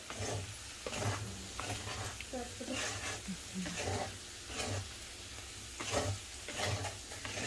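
A spoon stirs and scrapes a potato and bean fry in an Italian kadai, with repeated scraping strokes over a soft sizzle, close and moderately loud throughout.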